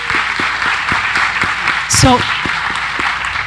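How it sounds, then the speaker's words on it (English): Audience applause for advocates of change at the World Non-Formal Education Forum 2019, with moderate clapping running under a speaker's voice that briefly speaks over it, plus a few sharper individual claps. "So please, a round of applause to all of you who are advocates for change."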